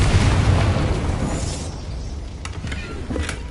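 A Confringo spell explosion in Hogwarts Legacy lets out a loud, close, rumbling blast that fades slowly over several seconds, with small pops and crackles in the tail.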